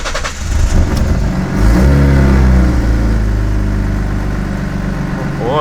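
A V6 Ford Mustang running on E85 fuel cranks and fires, with a loud rev that settles into a steady, rumbling idle at close range.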